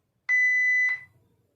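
A Jio Phone Next gives a single steady electronic beep of about half a second when its charger is plugged in, clear and close, followed by faint low background rustle.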